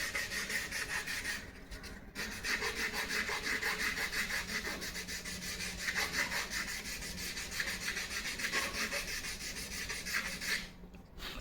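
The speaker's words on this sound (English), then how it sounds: "you can always use sandpaper and ensure the perfect curvature shape before you start the painting process" Sandpaper rubbing steadily over a balsa wood Tejas static model, a continuous close scratchy rasp with brief pauses near the start and end.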